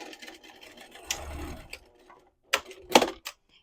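A sewing machine runs in short bursts as it stitches back and forth over the corners of a fabric travel case for hair tools, with brief pauses and a couple of sharp mechanical clicks.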